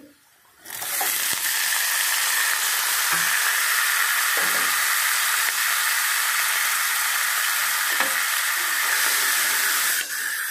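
Spiny gourd (boda kakarakaya) hits a pan of frying onion with an abrupt burst of loud, steady sizzling hiss. The hiss holds for about nine seconds and then cuts off, with no talk.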